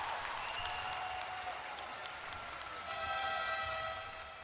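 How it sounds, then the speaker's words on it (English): A short burst of crowd clapping and cheering, steady and fairly close for about four seconds before tapering off at the end. "we got to do some cheering on that one"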